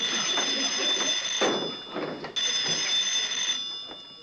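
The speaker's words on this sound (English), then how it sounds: "Phone's ringing, Sam." A telephone bell rings steadily and close by, with bright, sustained metallic tones. There is a brief break before the ringing resumes, then it cuts off near the end.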